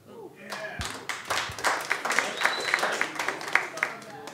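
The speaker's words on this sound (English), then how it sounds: "Round of applause." Audience clapping at a stand-up comedy show, a scattered burst of applause from a club crowd that swells and holds steady, with a voice talking over it.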